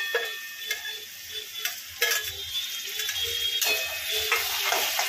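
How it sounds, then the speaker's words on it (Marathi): Tomato and onion frying in a pan for green chilli egg bhurji, a steady close sizzle with occasional soft spoon knocks and scrapes and no voices. "आता टमाटर आणि कांदा मस्त फ्राय करून घेऊया"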